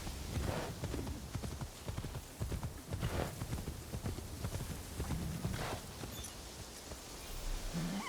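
Horse hooves clip-clop steadily in Assassin's Creed Shadows on PS5, a continuous close rhythmic trot of hoofbeats over faint game ambience for the whole stretch.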